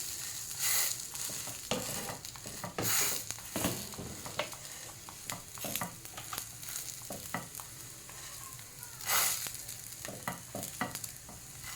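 Paneer kulcha fries in a pan under a continuous close sizzle, broken by repeated sharp scrapes and stirring knocks spread unevenly across the stretch.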